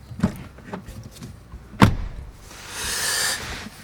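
The rear door of a BMW X6 40i M Sport SUV shutting without soft-close: a few light clicks and taps, then one solid, loud thud of the door closing, followed by a brief hissy rustle.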